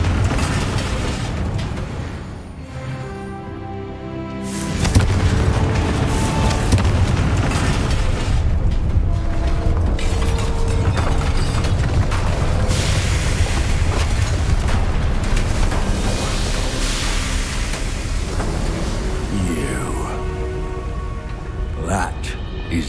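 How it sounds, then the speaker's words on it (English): Fiery Confringo spell blasts in the video game Hogwarts Legacy, a loud sustained roar of bursts and booms that swells after a quieter start and stays dense, with game voices over it. "Confringo!"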